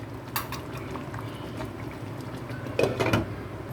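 Gravy with egg papad omelette pieces simmering in a covered pan, a steady low bubbling murmur with a few brief clinks and louder bursts near the end, no talking.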